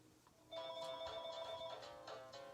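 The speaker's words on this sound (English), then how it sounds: "Excuse me, my phone is ringing." A telephone ringtone sounds in a repeating electronic melody of steady bright tones, starting about half a second in and continuing fairly loud over a quiet indoor background, with no talking.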